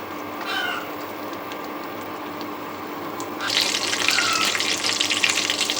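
Whole spices, cumin, cardamom and bay leaves hit hot oil in a kadai for Bengali chicken kosha. A soft hiss runs for a few seconds, then jumps to a louder, bright, crackling sizzle that holds close and steady.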